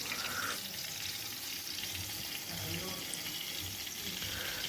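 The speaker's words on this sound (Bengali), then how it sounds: "শুকনো মরিচ দিয়ে কাতলা মাছের মাথা এখানে ভাজা হচ্ছে।" Large catla fish heads frying in oil with dried red chillies, giving a steady, close, dense sizzle that continues without a break throughout, with faint background sounds underneath.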